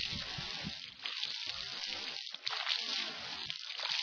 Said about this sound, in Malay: Membersihkan hidung dengan air.